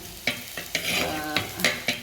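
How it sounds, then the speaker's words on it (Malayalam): Garlic sizzles in a hot clay pot while a utensil stirs it, several sharp scraping strokes landing over a steady close frying hiss. "ഇവിടുത്തെ വെളുത്തുള്ളി നല്ല ചൂടാവുന്നുണ്ട് കണ്ടോ"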